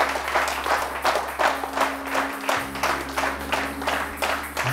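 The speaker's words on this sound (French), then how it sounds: "qui va acclamer Jésus?" A church congregation at an Easter service applauds in rhythmic, steady clapping, cheering and praising Jesus, with claps beating in a regular pulse and a low sustained tone running underneath.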